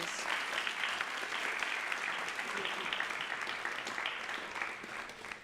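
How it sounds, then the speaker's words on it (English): Steady applause from an audience at a high school memorial ceremony, a dense, even wash of clapping held at a moderate level for the whole stretch with no voice above it. "Let's give Ms. Daniels another round of applause"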